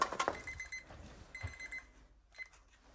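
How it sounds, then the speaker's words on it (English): A kitchen timer alarm rings in rapid electronic beeping bursts, loud at first and then starting and stopping in short runs before fading to quiet, during household cleaning. "Let's switch the timer off."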